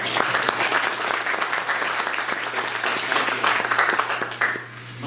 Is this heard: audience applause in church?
yes